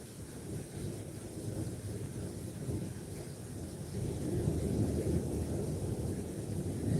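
Rumbling thunder crashes through a heavy downpour, a continuous roar of rain and low booming that swells louder midway, with no voices.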